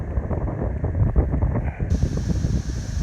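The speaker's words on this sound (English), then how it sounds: "Sure is windy out here." Steady wind gusting outdoors on a pasture, a loud continuous rumble buffeting the microphone with no pauses.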